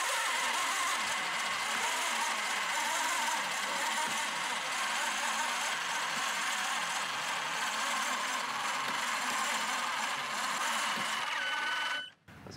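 Lunabotics competition robot rover driving, a steady close motor whine with a bright high tone that runs on evenly for about twelve seconds, then cuts off with a sudden thump near the end.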